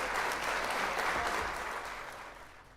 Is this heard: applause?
yes